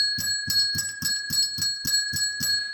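A ring-for-service bell is struck about ten times in a steady, quick rhythm, each bright ding ringing close and clear with short decays and no talk over it.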